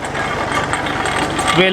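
A tractor engine drives a sugarcane crusher at a small sugar mill in Pakistan, a loud, steady running drone close by, with a person starting to talk near the end.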